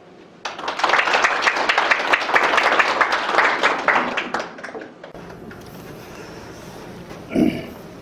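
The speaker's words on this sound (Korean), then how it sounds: "뜨거운 박수로 모시겠습니다." Audience applause at a business partnership seminar welcoming a lecturer, a few seconds of brisk clapping that stops abruptly, followed by quiet room tone and a brief thump.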